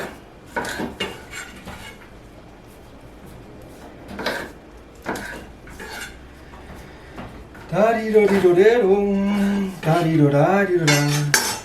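A knife cuts through food on a board for a seafood and chicken paella, with a few sharp taps and clinks of utensils early on, then a voice talks over the last few seconds.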